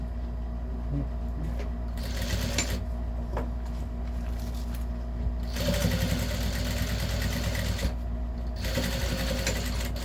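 A sewing machine runs steadily while topstitching the lining of a lunch bag, its rapid mechanical whir continuous with a couple of short pauses and a restart, close by and alone without talk.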